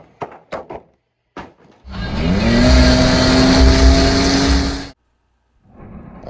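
Small toy Jeeps race: a few sharp clicks and knocks, then a loud motor whine that climbs in pitch and holds for about three seconds before cutting out, followed by quieter rustling.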